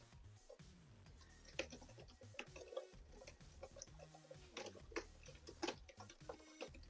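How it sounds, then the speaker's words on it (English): ASMR typing on a computer keyboard: quiet, close clicking keys pressed in quick irregular bursts, each keystroke a crisp tap with short pauses between. "ASMR typing."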